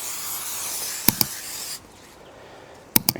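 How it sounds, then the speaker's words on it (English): Cooking spray misted from a can onto a large cut of beef: two short, sharp hissing bursts, a pause, then two more, each close and crisp above a low room hush. "I'm going to hit the outside with some cooking spray."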